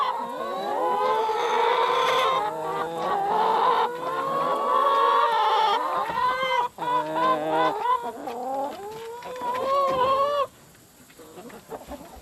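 Layer hens cluck and squawk nearby in a coop of about 25 molting birds, overlapping calls rising and falling steadily, with a brief dip before a final burst, then quieter clucks.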